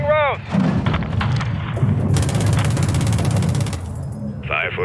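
Artillery fire in Call of Duty Modern Warfare 2 sounds as heavy rumbling blasts with crackling gunfire over a dense battle din, and short radio-like voices are heard at the start and end.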